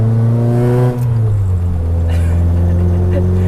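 A Mitsubishi Galant AMG engine revs loudly from inside the car, a strong harmonic drone that drops in pitch after a shift and then climbs again, close and dominant with slight clatter.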